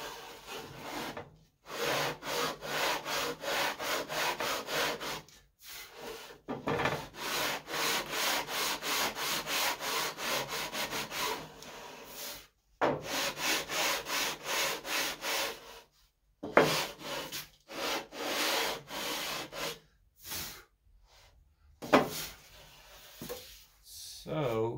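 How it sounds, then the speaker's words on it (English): Hand sanding of MDF wood while building an RC plane fuselage: rhythmic, close scratchy strokes in bursts separated by short pauses, with a few louder rubs near the end. "Take long on this MDF to get it down to exactly where we want it."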